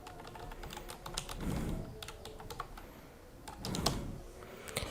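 Computer keyboard typing in quick bursts of close, crisp key clicks with short pauses between runs, over a soft room background.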